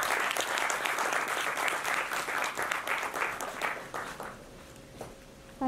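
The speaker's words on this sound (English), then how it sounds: "Please give a big round of applause." An audience applauds in a lecture hall for a speaker at a talk on India's foreign policy, a dense loud round of clapping that thins and fades over several seconds into a few scattered claps.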